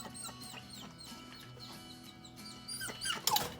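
A farm dog whimpering at a garden fence, with short high whines repeating at close range while chickens cluck nearby, and a louder burst near the end.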